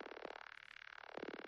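A synth sound runs through an echo effect in Ableton Live with a swept cutoff filter and an auto filter, making fast pulsing repeats that wobble and sweep in tone, quiet and steady, with no talking.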